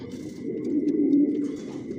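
Racing homing pigeons coo in a loft, their soft, low, throaty calls rolling steadily and overlapping at close range, with faint higher chirps and a thin steady tone in the background.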